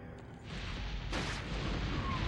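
A video game explosion in Resident Evil 4 rolls out as a sustained booming roar with a sharper burst midway, over continuous game noise.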